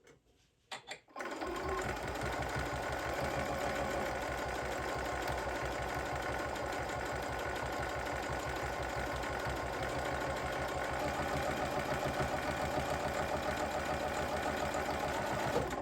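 A sewing machine stitches through placemats, starting after a few brief clicks and then running as a steady, fast mechanical whir and rhythmic needle patter close by, with no talking.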